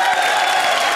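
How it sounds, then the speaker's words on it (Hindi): A studio audience at the comedy show Comedy Nights Bachao bursts into applause for Ranbir: a dense, steady wash of clapping and crowd noise that holds at full strength for the whole moment, with no voices above it. "चलिए रणबीर के लिए जोरदार तालियां हो जाए।"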